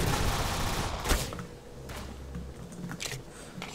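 Machine pistol fire in the Roblox game Arsenal, a loud opening burst of rapid shots followed by quieter scattered bursts and crackles.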